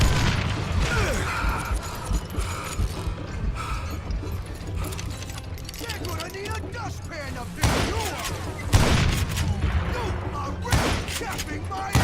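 Gunfire in the Western shooter Call of Juarez: Gunslinger, a busy run of shots and thuds with a few louder bursts near the end, mixed with game sounds and voices.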